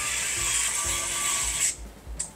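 Small screws are driven into an HP EliteDesk 705 G4 mini PC, a quick close whirring buzz of a small driver running for over a second, then a short second burst.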